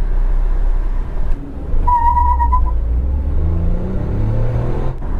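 A 2022 Tata Nexon XZ+ manual petrol car accelerating in sport mode: a loud, close engine rumble with a brief whistling whine, then engine tones that climb in pitch toward the end.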